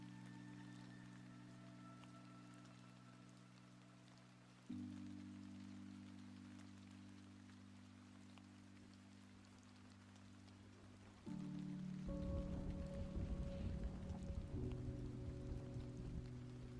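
Rainy ambient music playing in the Hearthstone video game, soft sustained synth chords shifting in steps over a steady hiss of falling rain, with no talk.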